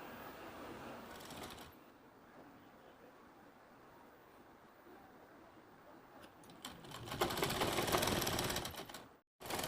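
A sewing machine stitches a folded fabric strip for a sleeve design, a soft continuous whirring run that swells louder and busier toward the end before cutting off briefly.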